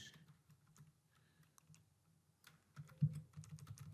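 Caption for a boutique's new dress collection post typed on a computer keyboard, a quiet, close run of irregular keystroke clicks that grows busier toward the end, with no voices.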